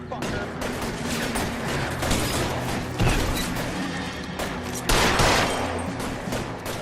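A shootout in the video game LA Noire, with continuous gunfire crackling throughout, several loud shots standing out among dense background fire.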